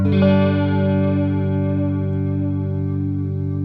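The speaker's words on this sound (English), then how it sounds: "it kind of has that effect of kind of vinyl slowing down and speeding up" A sustained electric guitar chord rings alone through a Chase Bliss Audio Warped Vinyl MKII pedal, its pitch slowly wavering up and down like a warped record.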